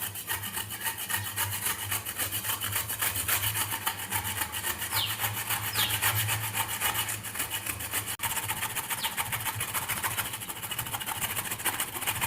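A coconut grated by hand with a small improvised scraper instead of a proper grater, giving a continuous rough rubbing and scraping that stays close and steady throughout over a low background hum.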